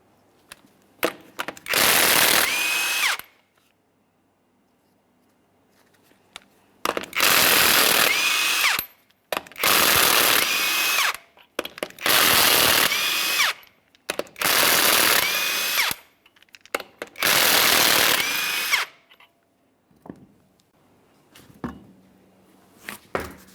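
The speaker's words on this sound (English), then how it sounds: "we'll continue on to all 6 of our 22mm lug nuts, and we can remove the wheel" A power tool ratchets off the 22mm lug nuts on a Chevrolet Silverado 1500 wheel, six loud, close bursts of about two seconds each, separated by short quiet pauses.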